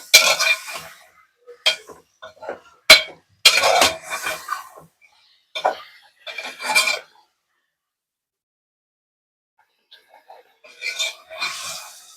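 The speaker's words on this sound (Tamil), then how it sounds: "இப்போ சிக்கனை போட்டு நம்ம கிண்டிக்கலாம்." Chicken being added to a pot and stirred for curry, scraping, rasping spoon strokes and clattering metal in short bursts, separated by a long quiet gap before more stirring.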